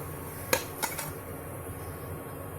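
Plate clinks twice as a freshly cooked sweet potato paratha is slid onto it, two sharp close knocks early on over a quiet kitchen background.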